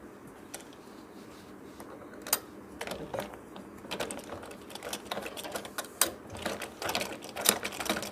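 A sewing machine stitches a waterproof baby bib in short mechanical bursts of whirring and clicking, starting and stopping unevenly and growing busier toward the end, close up with no voices.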